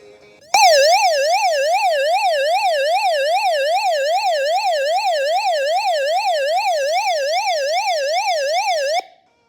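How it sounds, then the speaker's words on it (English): A piercing electronic siren from the SOS alarm of a Raddy RF75A shortwave emergency radio wails up and down rapidly and steadily for about eight seconds, loud and close, then cuts off abruptly. "This is a light and SOS button, which you're going to hear how loud this thing is."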